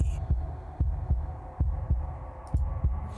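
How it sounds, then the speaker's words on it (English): A wooden and fleshy heart in the game Slay the Princess beats in an unbroken, steady rhythm. Each thump is deep, close and distinct, repeating roughly every third of a second over a low droning hum. "a wooden and fleshy heart beating with an unbroken rhythm"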